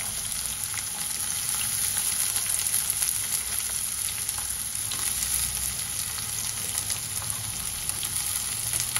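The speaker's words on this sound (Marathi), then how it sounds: "कांदा जरा लालसर रंगावर आपण परतून घ्यायचा आपल्याला" Chopped onion sautéing in hot oil in a pan gives a continuous close sizzle with fine crackling and occasional stirring scrapes, steady throughout with no talking.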